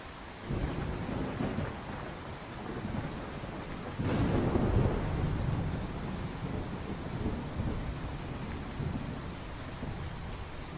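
Steady rain and rumbling thunder from a storm in the video game Skyrim, a continuous wash of rainfall with a deeper thunder roll swelling midway, no voices.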